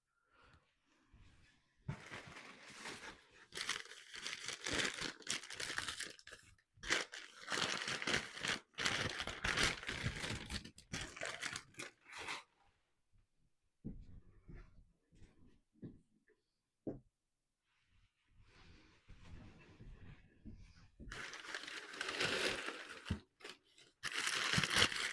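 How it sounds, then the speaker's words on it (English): Wrapping paper crackles, crumples and tears in long loud bursts as crystal glassware is unwrapped from storage, with brief quiet pauses between rustles. "Pardon the rattling of the paper."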